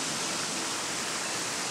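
A waterfall pours into a plunge pool, a steady, full rush of broadband water noise that holds even and unbroken throughout, with no voices.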